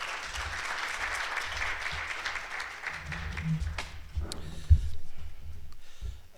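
Audience applause at a teacher education plenary session, honoring the keynote speaker: steady moderate clapping across the room, somewhat distant, with a low hum underneath and a brief thump near the end.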